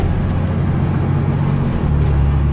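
A diesel pickup truck with a 4th gen tune and billet valve body accelerates hard through its gears with the torque converter locked, a steady loud low engine drone that shifts pitch without dropping off between shifts.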